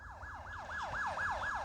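Police car sirens wail in a repeating up-and-down sweep inside the Roblox horror game Repleh County Archives, loud and steady with about six even cycles and no talking over them.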